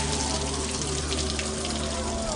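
Water drawn from a well is poured out onto the ground as an offering, a steady continuous gushing splash that runs unbroken the whole time, with nothing else heard over it.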